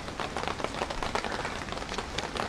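Light drizzle falling outdoors at a riverside hot springs gathering, a steady fine patter of drops on surfaces with no talk over it.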